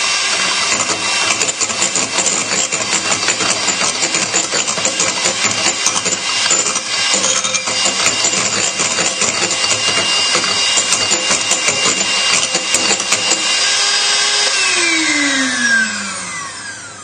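An electric hand mixer whisks a lemon curd soufflé mixture, a loud steady whirring buzz that runs unbroken for most of the stretch before winding down in pitch near the end, with no one talking.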